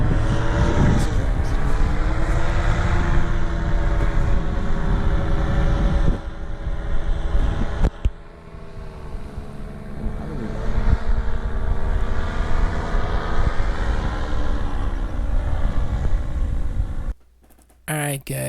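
A paramotor engine drones loudly and steadily during a first flight, with wavering pitch and occasional wind buffeting, then cuts out sharply near the end.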